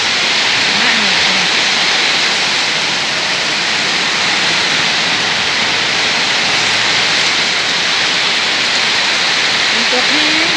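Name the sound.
heavy rain falling all day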